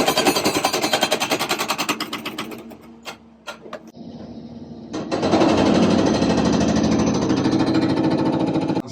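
An excavator's hydraulic hammer pounds rock during foundation excavation, a loud rapid rattling that briefly stops and drops away, then resumes as a dense, continuous hammering roar.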